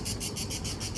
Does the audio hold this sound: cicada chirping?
yes